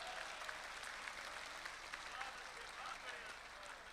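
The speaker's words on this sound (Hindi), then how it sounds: "लेकिन मेरा जी चाहता है कि उनकी शेरवानी के लिए भी एक बार ताली बजाई जानी चाहिए।" Applause from an audience at a mushaira and kavi sammelan in Dubai makes a steady, fairly faint wash of clapping that lasts the whole time with no break.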